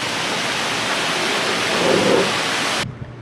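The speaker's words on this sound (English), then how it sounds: "it's a typical late day tropical downpour here in Punta Cana" Heavy late-day tropical rain pours down in Punta Cana in a dense, steady roar, loud and close, with no voices, before cutting off abruptly near the end.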